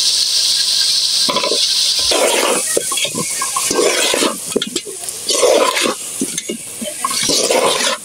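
Potatoes and taro stems fry in a pan close by. Busy sizzling and stirring scrapes come in bursts, loud throughout, with no talk; they are being cooked for a hilsa fish curry.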